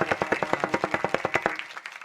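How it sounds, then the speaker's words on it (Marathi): Audience at a kirtan clapping in steady rhythmic unison for army soldiers, a brisk run of loud synchronized claps that stops abruptly, leaving a fading murmur. "आर्मीतल्या जवानांसाठी जोरदार टाळ्या वाजवा सगळ्यांनी"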